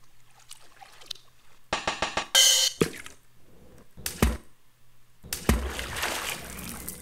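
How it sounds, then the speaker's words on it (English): Library splash effects auditioned one after another in a music composition session: short watery splashes and sloshing bursts, some sharp and bright, separated by near-silent gaps, ending in a longer, fuller splash with trailing spray. "we can find a better splash than that."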